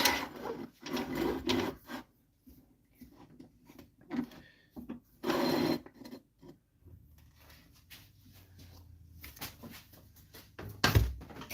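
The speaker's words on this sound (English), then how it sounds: "We are going to just part it off" A lathe tool parts off a walnut and cherry wooden bowl, cutting into the spinning wood in intermittent scraping bursts separated by quieter pauses, ending with a sharp knock.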